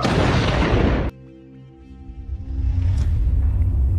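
A loud, roaring blast of a bomb explosion cuts off abruptly, followed by ringing tones and a low rumble building back up.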